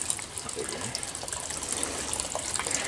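Water leaks out of a shrimp pond, losing large amounts daily, as a steady, soft gushing trickle at some distance with faint splashes throughout.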